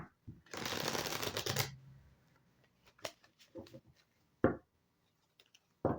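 A burst of tarot card shuffling, a quick riffling rustle lasting about a second, followed by a few soft taps and clicks of cards being handled.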